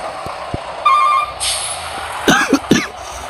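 In the video game Indonesia Truck Simulator, a brief electronic tone and a ringing chime sound, followed by a couple of short, harsh coughs close by.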